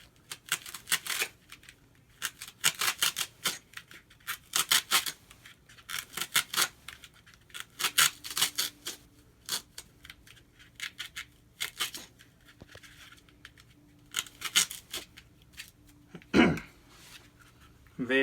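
Tape being pressed down and foam core trimmed on an Amtgard short sword, heard as close, irregular bursts of snipping, rubbing and scraping separated by short pauses.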